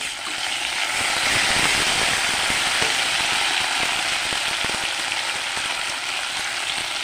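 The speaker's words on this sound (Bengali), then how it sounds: "কাঁচা লঙ্কা মাখিনি দিয়ে দিলাম তেলে" Green chillies hit hot oil for a Bengali-style chicken curry, giving a steady, bright sizzling hiss that crackles on evenly throughout at moderate loudness.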